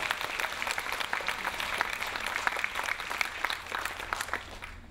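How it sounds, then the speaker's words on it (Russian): An audience at an Arctic film festival in Anadyr applauds, producing a dense, continuous crackle of many hands clapping that holds steady throughout. "Аплодисменты, друзья, без них этого кинофестиваля бы не было"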